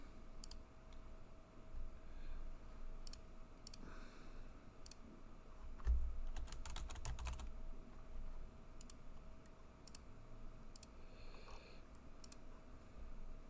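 Sparse, light keystrokes and clicks on a computer keyboard, scattered across the stretch as a password is entered during a live coding session, faint and close over a low steady hum.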